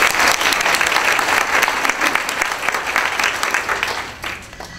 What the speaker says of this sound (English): And I think we should applaud ourselves for that.